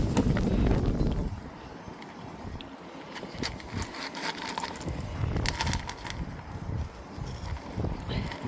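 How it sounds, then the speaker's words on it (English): Strong wind buffets a phone microphone outdoors in a garden, giving a loud, continuous rumbling roar with gusty swells that swamp the sound throughout. "it's just got very windy all of a sudden."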